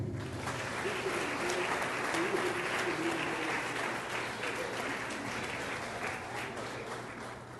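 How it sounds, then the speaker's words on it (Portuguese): A church congregation applauds to welcome pastor Elias, a continuous wash of many hands clapping, somewhat distant and roomy, holding steady before easing off gradually. "Vamos receber o pastor Elias com uma salva de palmas."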